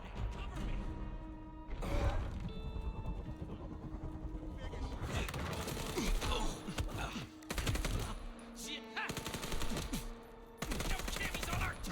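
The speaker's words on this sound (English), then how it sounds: "they got machine guns now" Machine gun fire in Vampire: The Masquerade - Bloodlines 2, with loud repeated bursts of automatic shots broken by short pauses, mixed with impacts and game noise.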